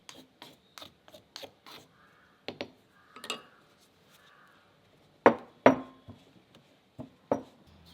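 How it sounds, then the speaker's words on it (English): Dry oats being ground by hand in a mortar and pestle, heard as a series of sharp, close knocks and scrapes in irregular bursts with short quiet gaps between them. "oats in a mortar and pestle and grind as finely as you can"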